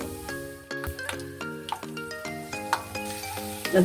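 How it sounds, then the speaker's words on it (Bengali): Raw peanuts fry in white oil in a wok, giving a steady sizzle under repeated stirring and scraping strokes, with bright tonal ringing layered on top. "আগে আমি কড়াইয়ে তেল দিয়ে নিলাম সাদা তেল কাঁচা বাদাম দিয়ে দিলাম বাদামটা ভেজে নেব"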